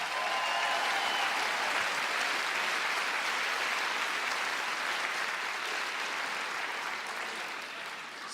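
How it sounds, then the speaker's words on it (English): A seminar audience at a Financial Peace session gives a volunteer a round of applause; steady, moderately loud clapping from a roomful of people that slowly tapers toward the end. "Y'all give Susan a big round of applause."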